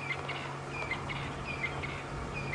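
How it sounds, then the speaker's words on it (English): Canaries sing in short chirpy phrases at a distance over a steady low hum, with no one talking, at sunset on an African safari drive. "Sounds like some canaries as well."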